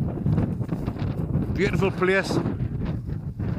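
Strong gusty wind buffets the microphone at Angle Tarn in the Lake District, roaring steadily throughout while a person speaks briefly over it.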